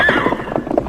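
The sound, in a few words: horse neighing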